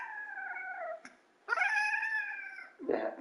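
A fat house cat meows three times indoors, long drawn-out calls near the microphone with a short pause between them, the last one shorter and rougher.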